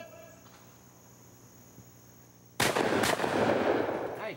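A sharp shotgun report at a sporting clays range bursts out of a quiet outdoor background partway through, with a second close blast right after it, loud and near, and echoing reverberation trailing away.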